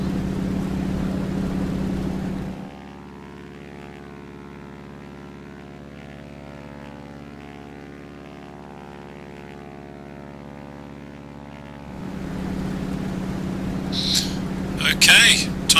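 A T-6 Texan (Harvard) propeller trainer in a flight simulator drones with a steady, loud engine hum that holds evenly for about ten seconds, with speech around it at the start and end.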